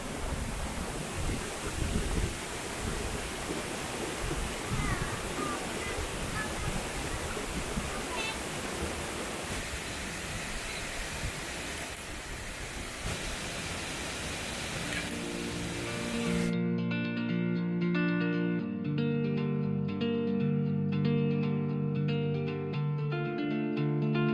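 Khlong Lan waterfall in Kamphaeng Phet gives a constant broad roar of falling water, heard alone at first, until music takes over for the final seconds.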